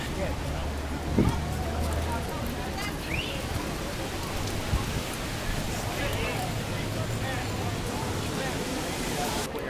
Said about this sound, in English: It's raining here in Times Square.